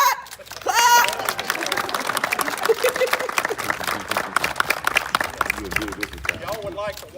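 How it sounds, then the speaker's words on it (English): Crowd clapping at a Grand Junction ribbon cutting ceremony, with a burst of applause after a countdown. It carries on steadily under chatter and talking voices, with shouts near the start. "we're cutting and clapping, cutting and clapping"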